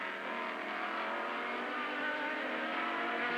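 Ferrari race car at full throttle during the 2000 Road America 500 endurance race, plunging downhill after an uphill turn; a loud, steady, continuous engine roar with no talk over it.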